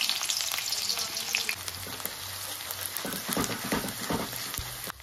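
Chopped onion sizzles in hot sunflower oil in a pan, a continuous close crackling fry with stirring scrapes, with no voices.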